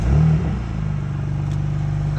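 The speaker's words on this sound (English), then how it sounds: "The car just started." A 2006 BMW 335xi with a bad engine starts by remote with nobody inside, a brief starter burst followed by a steady low idle rumble that carries on close by.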